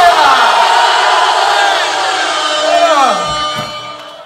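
A rap battle crowd at Bahay Katay's Katayan sa Hamogan event roars with loud, sustained shouting and cheering, the massed voices filling the room before tapering off near the end.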